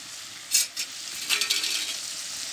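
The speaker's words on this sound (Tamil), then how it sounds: "இதில் வந்து கடை வச்சு எண்ணெய் ஊற்றி இந்த பட்டை லவங்கம் ஸ்டாஃபிஷ் ஒரு பச்சை மிளகாய் வெங்காயம் இதெல்லாம் போட்டு வதக்கிக்கிட்டு இருக்கேன்" Cinnamon, cloves, star anise, green chili and onion sauté in hot oil in a kadai, crackling and hissing with a few brief sharp bursts as they are stirred.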